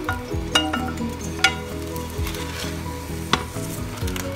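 Chicken fajita mixture with chilies and onion is stirred in a frying pan, giving a loud, steady sizzle with occasional spoon scrapes and light clinks against the pan, close up and with no voices.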